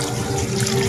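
Water pours steadily into a cooking pot while a dish of milkfish, pork and chicken is prepared in a home kitchen, a close, continuous splashing gush with no voices.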